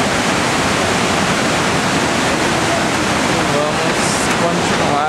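Iguazu Falls on the lower trail in Argentina, a huge waterfall with a steady, loud, close roar of rushing water that fills the whole soundscape without a break.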